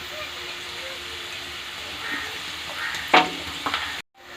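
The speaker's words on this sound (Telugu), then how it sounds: "ఇలా వేసి ఫ్రై చేసుకోవాలి" Peanut pakoda batter dropped into hot oil frying in a steady close sizzle, with a brief sharper crackle and a few stirring clinks near the end before the sound cuts off.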